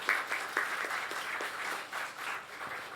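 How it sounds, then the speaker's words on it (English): An audience at a G20 Interfaith Forum health care session in Pune, India applauds a guest: dense, lively clapping from a full room, loudest at the start and holding steady with a few sharper claps standing out. "So big round of applause for our guest."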